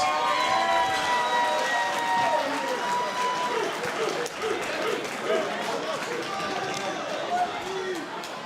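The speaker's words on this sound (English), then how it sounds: "One more round of applause." A crowd applauds and cheers at a jiu jitsu match between Jared Vanderaa and Marty Gonzalez, a continuous, fairly loud roar that runs under a voice speaking throughout.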